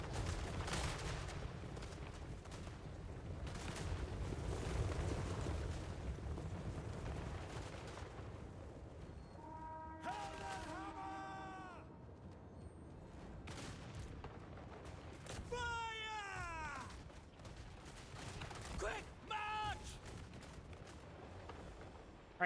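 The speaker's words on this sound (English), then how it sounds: "Oh no, those are semi-automatic rifles." Volleys of semi-automatic rifle fire crackle across a Total War Warhammer 3 battlefield, dense overlapping shots rolling on for seconds, with brief shouted voice lines rising over the din.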